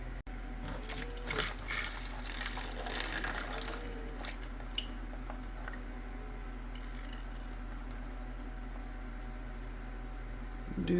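Water runs steadily over chia and lentil sprouts being rinsed, a soft continuous splashing and trickling that stays close and even throughout, with a few louder squishy splashes near the start.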